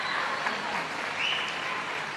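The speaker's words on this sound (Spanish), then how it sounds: "y estos aplausos que reconocen a estos trabajadores del boxeo" Audience applause fills a boxing venue after a six-round undercard bout, a steady wash of clapping at moderate distance with no speech over it.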